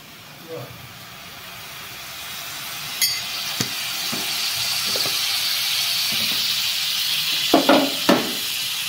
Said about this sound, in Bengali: এই যে রসুনটা ভেজে নিলাম